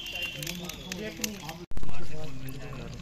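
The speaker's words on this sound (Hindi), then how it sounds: "अब हम इसमें डालेंगे अदरक" Ginger paste goes into a pan of cooking goat head meat, releasing a loud, sudden sizzle that slowly fades, after a stretch of someone talking over quieter frying crackle.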